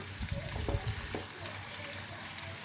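Prawns frying in hot oil in a pan while being lightly stirred, a soft close sizzle with a few faint scraping touches, steady and fairly quiet throughout.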